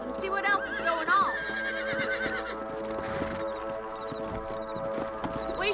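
Rhythmic clip-clop of trotting horse hooves in the video game Red Dead runs throughout, with horses whinnying near the start, over a low sustained musical backdrop.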